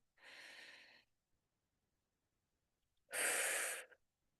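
Two slow, deep breaths during a guided relaxation, a long airy inhale and then a louder, fuller exhale, close and clear with silence between them and no talking.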